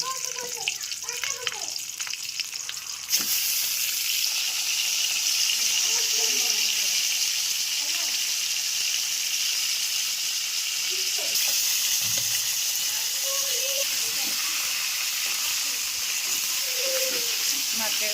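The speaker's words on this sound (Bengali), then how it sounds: "হলুদ লবণ মাখানো মাছটা এবার ভেজে নেব" Fish coated in salt and turmeric fries in hot oil in a wok, a steady loud sizzle that jumps up suddenly a few seconds in and then hisses on continuously, with faint voices behind.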